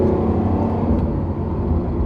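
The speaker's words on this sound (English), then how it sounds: "So I think the exhaust note is appropriate for this." A 2022 Lamborghini Countach accelerates hard, its exhaust note a loud, dense, continuous roar with a steady growl that holds for the whole stretch, no voices over it.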